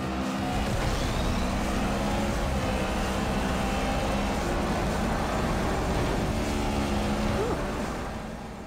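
Racing car engine from the Need for Speed video game played on an iPad, a steady droning roar with shifting engine tones throughout, fairly loud and continuous, fading slightly at the end.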